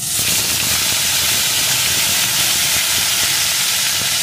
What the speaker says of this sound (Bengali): টমেটো কুচিটা একটু ভেজে নেব।